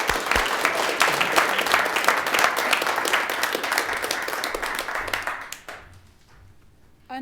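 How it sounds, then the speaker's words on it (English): A large audience at an Alaska poetry recitation competition applauds steadily for several seconds, dense clapping that thins out and fades near the end. "a warm round of applause for Avery Harriman Sakamoto"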